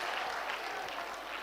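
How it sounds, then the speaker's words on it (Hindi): Audience members at a Dev Anand quiz event in Jaipur applaud a contestant, a brief, steady patter of distant clapping at low volume. "तालियां जोरों से बजाइए"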